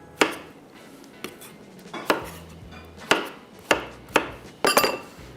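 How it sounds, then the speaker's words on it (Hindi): A knife cuts zucchini into thick pieces on a board, about eight crisp, close chops at an uneven pace, each one sharp against a quiet kitchen background with no voices. "ये भी काट लेते हैं और इसको भी थोड़ा सा ज़रा थिक पीसेज में"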